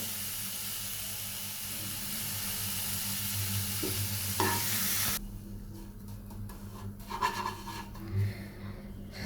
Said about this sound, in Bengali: দেখুন, শুটকিগুলো নাড়তে নাড়তে একদম দলা পাকিয়ে গিয়েছে।